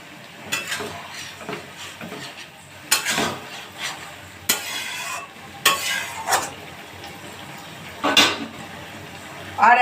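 Ground chili paste goes into a pan of frying long black eggplant and bhola fish, giving a soft sizzle broken by intermittent spatula scrapes and clattering stirs against the pan, close by.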